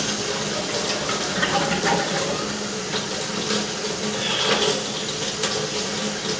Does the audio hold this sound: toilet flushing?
yes